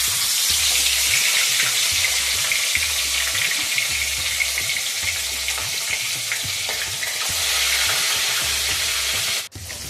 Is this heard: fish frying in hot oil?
yes